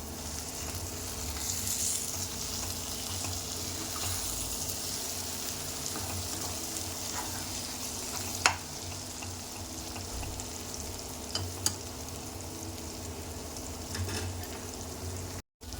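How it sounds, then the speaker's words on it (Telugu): Eggs frying in a pan with potato and tomato, an even, continuous close sizzle with a few faint clicks of a spatula, no voices. "ఇది ఎగ్స్ మంచిగా ఫ్రై చేసుకుందామండి."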